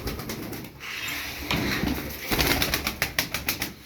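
Çapar tumbler pigeons coo close by in a run of soft, repeated calls that become more rhythmic toward the end. There are no voices.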